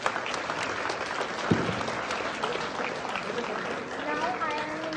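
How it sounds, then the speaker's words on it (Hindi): A seminar audience applauds loudly for a speaker, a steady mass of clapping in a hall with a single sharp knock partway through, while voices and a faint tonal whistle rise near the end. "एक बार जोरदार तालियां इनके लिए।"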